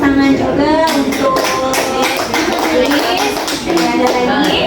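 An audience applauds at an educational dissemination event on the MDGs and SDGs. The clapping is dense and steady throughout. A voice is also heard, partly under the clapping.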